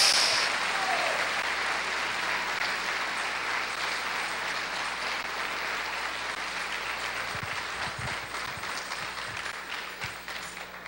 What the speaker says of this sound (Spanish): si ese aplauso se lo va a dar esta mañana, déselo con ganas